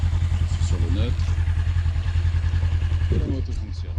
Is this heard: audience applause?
no